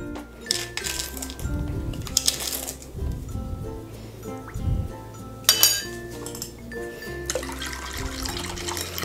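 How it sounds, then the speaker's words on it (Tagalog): A spoon clinks against a container while stirring sugar into warm milk for avocado siopao dough, giving a few light metallic taps over a steady background hum with faint water-like sounds. "Hahaluin natin para matunaw yung sugar"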